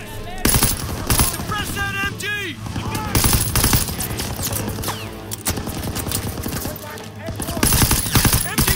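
Sustained machine gun fire in the World War II shooter Call of Duty: WWII, with rapid bursts of shots running throughout amid battle noise and background music, while voices shout over the gunfire.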